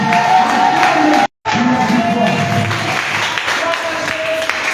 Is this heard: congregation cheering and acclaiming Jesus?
yes